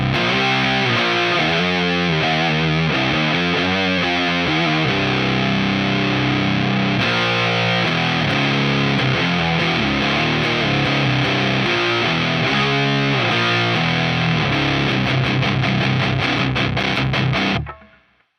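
Electric guitar run through a RAT distortion pedal into a SUNN 2000 S tube amp, playing loud, saturated chugs and held chords with a bright, biting edge. The playing is continuous and alone, then cuts off abruptly at the end.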